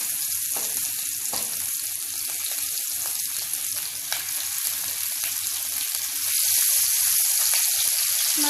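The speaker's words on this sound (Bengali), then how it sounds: "লবণ হলুদ মাখিয়ে মাছগুলো ভাজার জন্য এক এক করে আমি তেলে ছাড়বো।" Singi fish coated in salt and turmeric, lowered one by one into hot mustard oil, give off a steady close-up sizzle with scattered crackles and spits that swell slightly louder toward the end.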